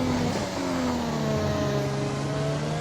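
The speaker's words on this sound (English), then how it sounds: "enjoy pure engine sounds from this newly upgraded to the fastest car, Red Bull Honda" A Red Bull Honda Formula 1 car in a racing video game on the Portugal circuit screams at high revs, its pitch sweeping through gear changes as it accelerates, loud and continuous with no talk.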